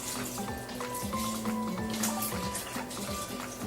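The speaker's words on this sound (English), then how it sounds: "We're going to add our vegetable broth." Vegetable broth pours steadily into an Instant Pot, a continuous close liquid gurgle and splash that fills the whole moment without any talking.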